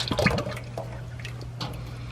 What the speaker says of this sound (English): A lot of oil coming down off of this filter